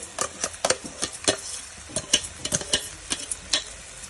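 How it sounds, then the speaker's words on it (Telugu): A spoon stirs fried onion-tomato paste into an Andhra-style fish curry with raw mango in a pan, producing a steady run of quick scraping strokes with a light sizzle underneath, close and moderately loud. "ఆ పేస్ట్ ని యాడ్ చేస్తున్నాను. ఇప్పుడు కలుపుతున్నాను దీనికి."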